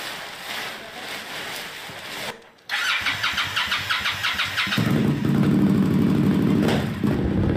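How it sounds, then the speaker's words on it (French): A motorcycle engine cranks and catches after a brief silence, then settles into a close, loud, pulsing idle that thickens into a steady running rumble. "Et ça, c'est ma moto."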